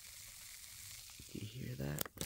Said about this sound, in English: when you shake it up, you get this fine little bubble.